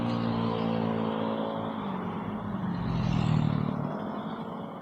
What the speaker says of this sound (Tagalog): Tumahimik na yung makina mga master.